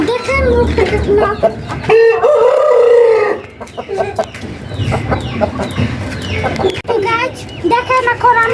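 A rooster with an injured leg crows loudly and close, one long drawn-out call, then clucks in short bursts around a farmyard, with people's voices talking over parts of it.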